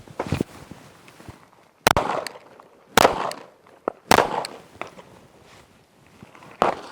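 Handgun shots fired by a shooter moving on foot, about five sharp loud reports spaced roughly a second apart, with scuffing footsteps between them.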